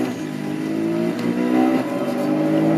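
McLaren MP4-12C in the Need For Speed Most Wanted video game, a loud near engine drone that climbs steadily in pitch as the car accelerates, with no talk over it.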